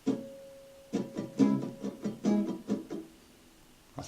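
Guitar strums the rhythm of a song at full speed, a quick pattern of bright strokes broken by short percussive muted hits, close and moderately loud, with no voice.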